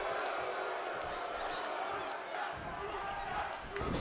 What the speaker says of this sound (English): you're hearing quite a few Lucha chants now breaking out across the Hammerstein Ballroom